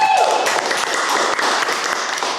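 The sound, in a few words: applause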